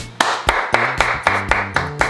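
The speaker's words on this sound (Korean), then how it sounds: "박수 한번 치고 들어갈게요." Hands clap eight times in a steady, even rhythm, each one a sharp, close, fairly loud smack with a brief pause between, and no voices.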